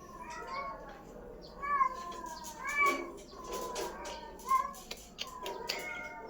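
A cat meows repeatedly in a series of short, tonal calls spread across several seconds, fairly close, over a faint background hiss.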